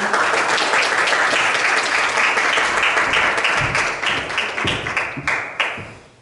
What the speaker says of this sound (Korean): 발표해주신 강의자분께 큰 박수 부탁드리겠습니다.